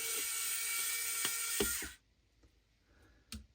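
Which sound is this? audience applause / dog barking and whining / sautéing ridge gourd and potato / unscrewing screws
unscrewing screws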